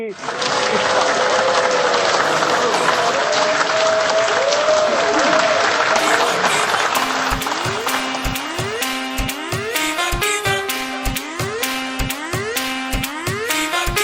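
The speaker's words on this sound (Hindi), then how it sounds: "जोरदार तालियों से स्वागत करेंगे" Loud, sustained applause from a crowd welcoming a speaker at a business leadership event, dense and even, with rhythmic music entering partway and playing beneath the clapping.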